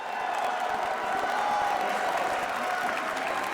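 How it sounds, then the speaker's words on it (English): Steady applause from the audience at the Pokémon World Championships fills a large hall, mixed with a little cheering, at moderate distance. "Let's get a round of applause."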